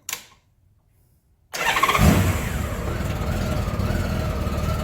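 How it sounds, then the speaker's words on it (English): A Honda GL1500 motorcycle engine cranks and catches after a brief pause, then settles into a loud, steady idle close by, with no talking. "So we're going to start up and we're going to set our idle."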